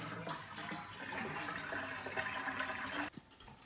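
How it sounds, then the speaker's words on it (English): Water pours out of a pot of hard-boiled eggs in a steady rushing stream, close and fairly loud, then stops abruptly with a couple of small splashes. "What I do is I just carefully drain most of the water."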